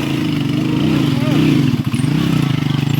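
A motorcycle engine runs close and loud with a steady pulsing putter that rises in pitch and then settles back to a rhythmic idle, while people talk over it.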